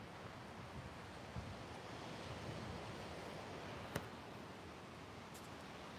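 Broad, steady wash of surf and breeze along the oceanfront at Pacific Beach, an even roar of waves with gentle swells and a couple of brief knocks, no voices.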